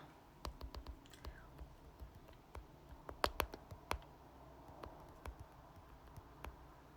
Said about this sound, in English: I'm having to type whilst it's on my ring light.